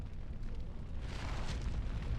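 A fire burst spell in the video game Dragon Age: Origins gives a continuous, loud, roaring whoosh of flame that swells slightly and holds for about two seconds.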